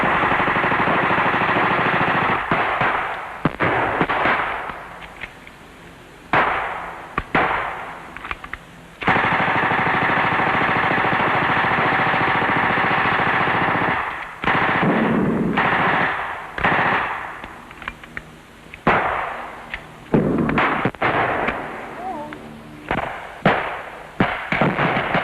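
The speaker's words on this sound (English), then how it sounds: "The Sterling submachine gun, the self-loading rifle, and the general-purpose machine gun known as the GPMG." Sterling submachine gun, self-loading rifle and GPMG machine gun fire loudly in sustained automatic bursts and single shots, with pauses between volleys over a steady background roar, from a 1971 military display.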